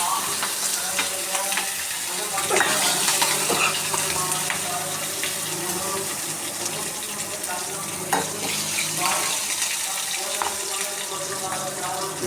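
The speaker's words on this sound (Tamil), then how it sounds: "காஞ்ச மிளகா, கருவேப்பிலையே சேர்த்துட்டோம்" Dried red chillies and curry leaves crackle and sizzle in hot oil for killi potta sambar, a dense close frying hiss with scattered pops and stirring, no voices.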